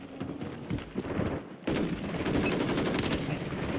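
Gunfire in the Warzone video game, rapid loud shots cracking close by in a dense, sustained volley with a sudden surge partway through.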